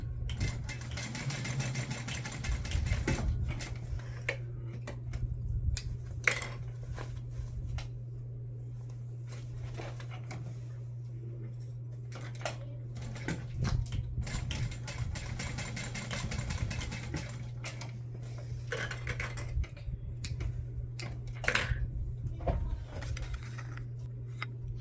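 A sewing machine stitching a second seam on a bag connector, running in bursts of steady motor whir with short pauses and handling sounds between runs.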